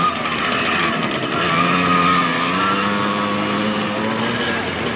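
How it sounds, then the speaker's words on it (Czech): Mini tractors race at a tractor show in Rovná. Their small engines make a loud, steady buzzing drone that holds the whole time, with rising and falling revs as they pass close by. "Pojedou mini traktory"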